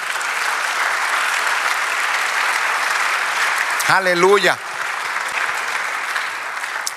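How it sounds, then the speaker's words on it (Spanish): Worshippers in a church applaud the Lord, a continuous wash of many hands clapping, with a voice briefly calling out over it about midway before the clapping carries on. "dale un aplauso al Señor"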